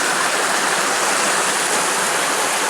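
River water rushing around rocks in The Narrows canyon, a dense, steady broadband roar heard close and loud throughout, with no voices over it.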